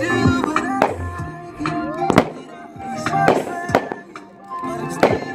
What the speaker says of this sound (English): Wheelie Time by Ninja Fireworks Redo.